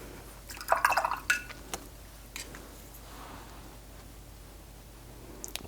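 Water dropped from a brush into thick granulating Daniel Smith watercolor paint gives a few quick, soft wet drips and taps close by, followed by a quiet, hissy stretch.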